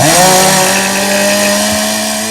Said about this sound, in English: Pull out that chainsaw.